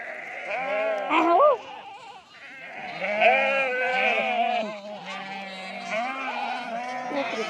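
A flock of sheep near a herders' camp bleats repeatedly at close range, several wavering calls overlapping and following one another while the animals run about.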